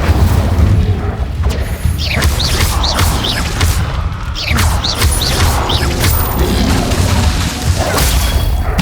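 Loud, continuous combat sounds from the Hogwarts Legacy video game as an Incendio fire spell is cast, with whooshing bursts, booms and crashing impacts layered over a rumbling low end.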